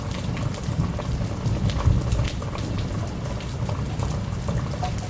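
An Arizona monsoon thunderstorm in August with wind and rain: a steady, dense hiss of heavy rainfall pattering on surfaces close by, with a low rumble underneath and no voices.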